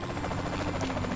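Helicopter in the video game Saints Row: The Third Remastered, a steady, loud rotor drone and whine that holds without a break through the short moment.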